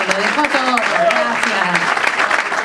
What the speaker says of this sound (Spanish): Otro aplauso al compañero.